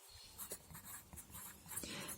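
Chalk or marker scratches out angle notation on a board in a quiet classroom, with short, quick strokes in an uneven rhythm, close and faint.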